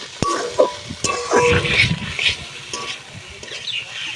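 Food sizzles and crackles in a hot pan while a utensil stirs and scrapes, with a few sharp clanks along the way.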